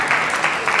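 Audience applause in a talk or workshop setting, a steady dense wash of clapping hands filling the short moment at close range.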